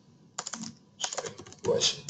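Typing on a computer keyboard while checking the Java version for a JMeter 3.1 install, with short bursts of key clicks heard close under a man's spoken instructions.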